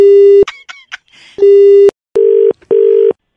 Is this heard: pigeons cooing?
no